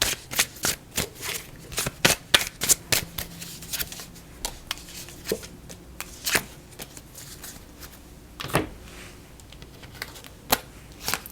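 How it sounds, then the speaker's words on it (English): A deck of tarot cards is reshuffled by hand, giving quick crisp riffles and soft slaps in irregular bursts, close and fairly quiet, with no talking. "I'm gonna reshuffle"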